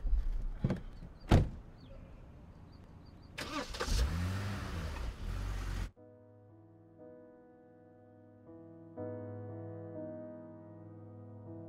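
A car passes with sharp door thumps and a swelling engine sweep, then the sound cuts abruptly to a steady sustained musical tone with no talking.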